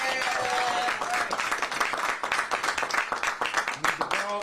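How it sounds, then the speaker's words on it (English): An audience at a live morning news event gives a round of applause for a congressmember and a state senator. The clapping is lively and fairly close, with a voice briefly heard at the start and end. "Can we please give them a round of applause?"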